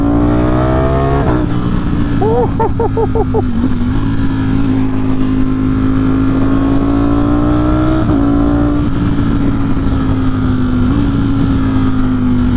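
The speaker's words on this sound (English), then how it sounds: "Oh, that Ducati sound" Ducati Streetfighter V4 motorcycle engine idling loud and close with throaty, lumpy rumble, a brief blip of revs early on, then settling back to a steady burble.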